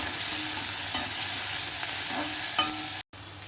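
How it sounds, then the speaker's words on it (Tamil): Onions sauté in a pan, a steady low sizzle with occasional stirring scrapes and soft clinks, close and fairly loud, briefly cutting out near the end before resuming. "அப்போ நமக்கு சீக்கிரமாக வெங்காயம் வதங்கிடும்"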